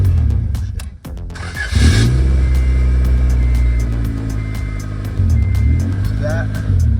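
A 1990 Acura Integra engine with a manual swap idles roughly. It stumbles and dips near the start, then settles into an uneven, loping idle that surges again partway through, with a brief voice over it.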